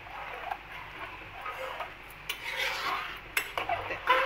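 A spoon stirs kheer in a pot with a steady run of small metallic scrapes and clinks, close and moderately loud, with a few sharper taps of metal against the pot near the end.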